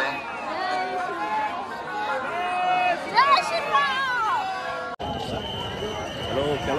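A large crowd of passengers chatters on a railway station platform after a special train from Mumbai arrives in Ayodhya, many overlapping voices near and far forming a steady, loud hubbub with a few raised calls.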